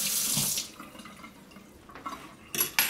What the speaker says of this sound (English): And I'm going to rinse the fork off.